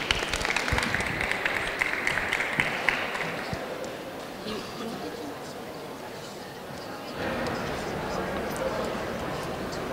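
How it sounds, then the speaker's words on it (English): Applause from a small audience for Union Council Chair and Democracy Officer candidates at a UDSU student union Q&A, a dense patter of clapping that fades over several seconds, with talking and room noise continuing afterward. "Can we give them a round of applause, please?"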